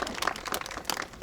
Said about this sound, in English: A round of applause for NYPD